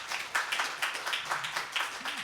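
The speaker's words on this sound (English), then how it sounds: "If you could give them a round of applause." Brief applause for three panelists at a digital citizenship conference session, a short burst of scattered hand clapping that sounds like a small audience, rhythmic and fairly close, with no talking.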